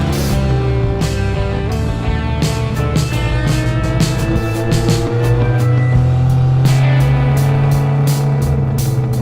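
A 1959 MGA sports car with a vintage racing history runs steadily and loudly nearby, its engine holding a sustained tone with a few shifts in pitch, heard alone.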